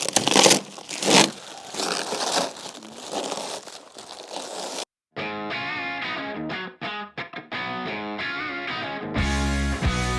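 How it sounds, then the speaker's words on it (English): Protective wrap is peeled and crinkled off an Airstream trailer shell, a loud, dense crackling that fills the first half, then gives way to other tonal, effects-laden sound. "Just going to kind of unwrap it a little bit more."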